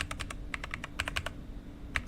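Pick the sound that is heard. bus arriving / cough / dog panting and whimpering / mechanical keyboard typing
mechanical keyboard typing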